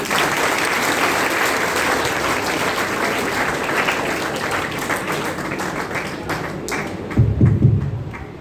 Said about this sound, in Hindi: तो एक बार जोरदार तालियां पेरेंट एसोसिएशन।